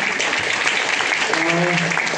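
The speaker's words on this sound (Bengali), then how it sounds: "জোরদার হাততালি চাই ওনার জন্য" Applause from an audience at a stage event for a person being honoured, a continuous broad clatter of clapping with a voice faintly mixed in.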